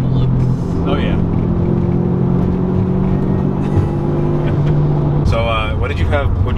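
A 300 HP 2013 Subaru WRX drives fast, its engine a steady loud rumble with road noise throughout, while people talk inside the car over it.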